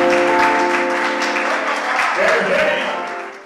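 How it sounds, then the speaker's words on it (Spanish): More than twenty merengue musicians applaud at a rehearsal, a warm burst of clapping mixed with held instrument tones and voices that thins out toward the end. "los más de 20 músicos aplaudieron por la presencia de Mateo"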